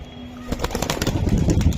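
Racing pigeons burst into flight on release, a close flurry of flapping wings building into rapid rhythmic beats over about a second and a half.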